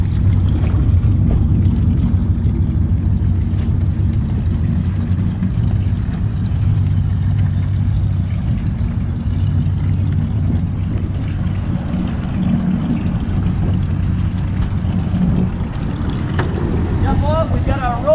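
Boat engines idle and rumble low and steady as the boat backs slowly off its trailer at a dock, with wind buffeting the microphone and water sloshing around the hull throughout.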